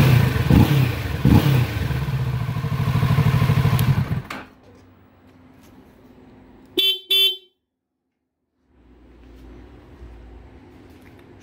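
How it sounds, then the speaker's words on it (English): A 2017 Kawasaki Ninja 650 parallel-twin sportbike engine runs loud and close with a throaty rumble and quick throttle blips, then drops to a quiet idle, broken by a short double horn toot. "Snappy little parallel twin. 650."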